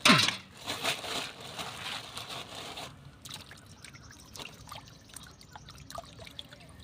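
Tap water splashing in a kitchen sink while rock fish are washed, a burst of spatter at the start settling into a steady, close trickle.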